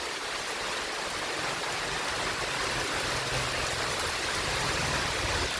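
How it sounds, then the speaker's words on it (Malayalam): Heavy rain pours down in a steady, dense hiss that stays loud and even throughout, with no voices and no breaks. "ഇതാ ഇപ്പോൾ വന്നു, വീടെടുക്കാൻ നേരത്ത് നല്ല മഴ വന്നു."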